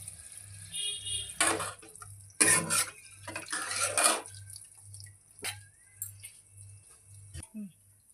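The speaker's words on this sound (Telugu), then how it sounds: "ఇక ఉడికినాక చింతరసం పోస్తాను" Tamarind juice is poured into simmering bottle gourd rasam, making soft splashing and dripping bursts in a few separate pours over a low steady hum, with a final small clink at the end.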